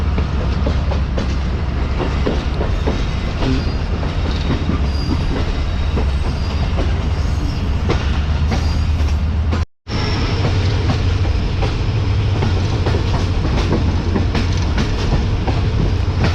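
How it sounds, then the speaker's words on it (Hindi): Pak Business Express passenger train running on rails as it approaches Kot Lakhpat station, a loud steady rumble with clickety-clack wheel rhythm and occasional squeal, broken by one very brief dropout near the middle. "हमारी ट्रेन अप्रोच बना रही है कोट लखपत रेलवे स्टेशन पर"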